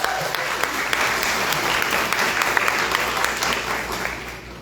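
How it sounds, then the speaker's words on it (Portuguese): An audience claps steadily during a church service, warm and continuous applause filling the room, with a low hum beneath and some voices mixed in. "As palmas não estavam no currículo"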